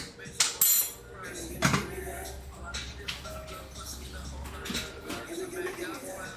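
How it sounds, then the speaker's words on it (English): A pot of lemon herb risotto being stirred, with scraping clinks of a spoon against the pan, a few sharp knocks early on, then softer scrapes over a steady low hum of the stove. "give this a stir, heat back up"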